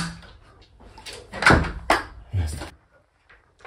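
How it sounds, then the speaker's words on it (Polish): A Herakles sliding glass door is shifted along its track, giving a few distinct rolling thuds and knocks in quick succession, close and fairly loud, then quiet. "Może trochę przesunę drzwi w prawo."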